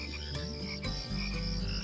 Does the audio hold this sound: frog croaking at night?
yes